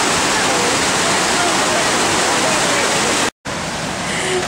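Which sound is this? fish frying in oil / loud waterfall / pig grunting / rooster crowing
loud waterfall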